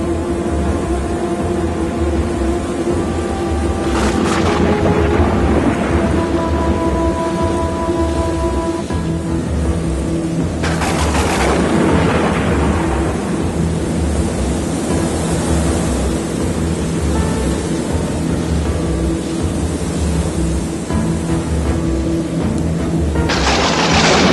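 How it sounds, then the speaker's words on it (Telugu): Fierce storm sound effect with a steady roar of gusting wind and rain, broken by several loud thunder crashes that build and fade, continuous and close with no voices. "అప్పటి వరకు మెల్లగా వీచిన గాలి పెను తుఫానుగా మారి ఈదురుగాలులు మొదలయ్యాయి"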